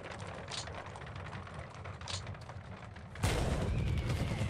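Artillery in the War in the East 2 wargame fires with a sudden heavy boom about three seconds in, preceded by low crackling gunfire and rumble, then a sustained loud roar afterward.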